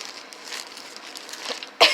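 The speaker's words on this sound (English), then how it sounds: "Sorry, I didn't mean to cough on you guys." A single sharp cough bursts out close by near the end, after a stretch of quiet background hiss, heard indoors at an estate sale.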